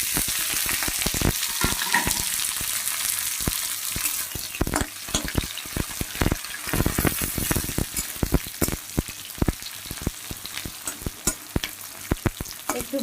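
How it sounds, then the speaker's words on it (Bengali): Onion, garlic, green chilli and nigella seeds fry in hot oil, a steady sizzling hiss broken by frequent sharp clicks and scrapes of a spatula stirring the pan, close and continuous with no talking. "একটু ভাজা হতে থাকুক"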